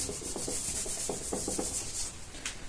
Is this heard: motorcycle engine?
no